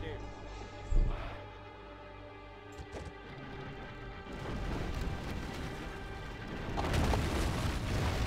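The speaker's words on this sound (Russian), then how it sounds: "Ворота снесли." City gates are smashed in during a siege battle in the Rome: Total War video game. A heavy crash lands early, then a dense, continuous din of battle follows, growing louder toward the end.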